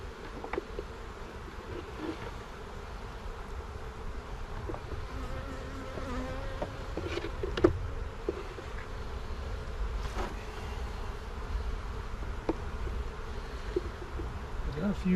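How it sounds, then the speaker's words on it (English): Honey bees buzz softly and steadily around a weak, mostly empty hive box, with faint intermittent clicks and handling noises close by and no talking. "Got a few bees working over here"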